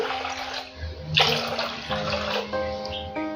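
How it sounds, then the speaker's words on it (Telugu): Water splashes and gurgles into a bowl in a steady stream, with a couple of louder surges partway through, nearby. "ఒక బౌల్లోకి మూడు గ్లాసులు వాటర్ యాడ్ చేసుకుంటున్నాను"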